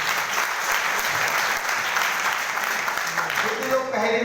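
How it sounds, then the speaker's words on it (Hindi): A crowd at a celebration program claps loudly and steadily throughout, and near the end a voice begins speaking over the applause. "जोरदार तालियां आप सभी लोगों को"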